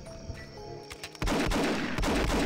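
Rapid pistol fire in the shooter Blood: Fresh Supply, a burst of repeated sharp shots starting abruptly and continuing densely, loud and close, after a quieter stretch of game ambience.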